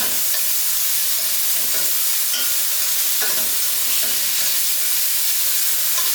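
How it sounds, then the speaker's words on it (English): Vegetables with Scotch bonnet pepper are stirred in a hot pot for brown stew salmon. Steady sizzling and hissing fill the clip, broken by repeated scraping sweeps of the spoon. "Give that a good mix just to waken up everything"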